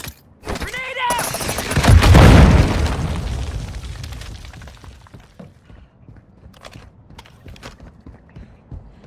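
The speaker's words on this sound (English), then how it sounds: "Grenade out!" Grenade going off in Call of Duty: Warzone Mobile: a loud boom with a heavy low rumble that swells and slowly fades over several seconds, followed by scattered small clicks and footstep-like taps, with a brief voice at the start.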